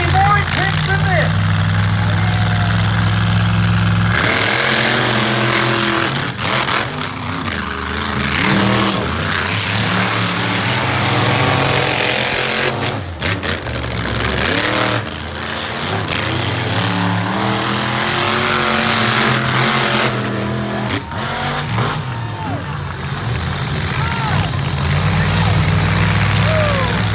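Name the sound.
monster trucks racing, engines revving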